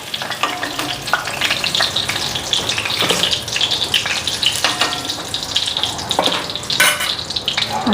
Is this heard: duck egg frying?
yes